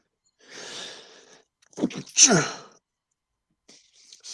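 A single sharp sneeze bursts out after a soft, breathy intake, close to the microphone, followed by quiet.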